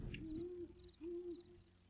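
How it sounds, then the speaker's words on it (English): Two clear owl hoots from a virtual forest near a railroad in Second Life, each a rounded, sustained low call with a short pause between, fairly close against a quiet background. "There's an owl over there."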